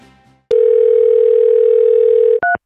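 A steady, loud telephone dial tone hums for about two seconds, then cuts off and gives way to a brief two-tone beep as a call to the police connects.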